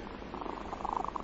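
A lion purrs softly and steadily, like a docile house cat, in a dramatized radio scene; the low, continuous rumble stays faint and alone, swelling slightly toward the end.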